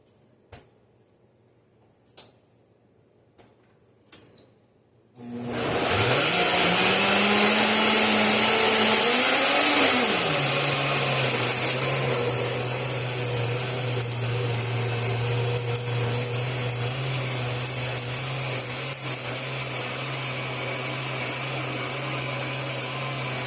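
Jerk sauce with browning spins in a blender: a few light clicks in near silence, then the motor kicks in loudly, whirs up in pitch, and settles into a steady close roar to the end.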